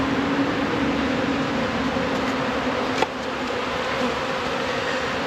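Honey bees swarm around an open beehive, and their dense, steady buzzing drones without a break. A single faint knock sounds partway through.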